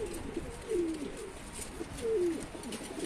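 Pigeons coo softly in low, repeated calls, a few phrases over a steady background hiss with no talking.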